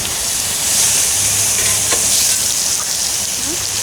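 Steaks browning in butter in a pan over a campfire hiss and sizzle loudly and steadily up close, with no pauses.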